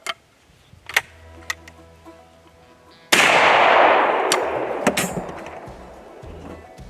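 A 100-year-old single-shot shotgun fires one loud, sharp blast partway through, preceded by faint clicks and handling noises, with a long ringing decay fading over the following seconds.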